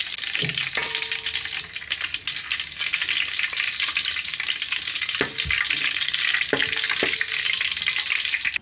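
Homemade ghee melts and sizzles in a pan for bagara rice, a steady broadband frying hiss with a few soft clinks of a utensil against the pan.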